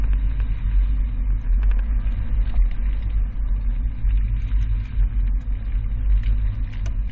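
A 2018 Toyota carrying a Yakima RidgeBack five-bike rack rolls through a slalom test course, giving a steady low engine and road rumble with no breaks and no voices.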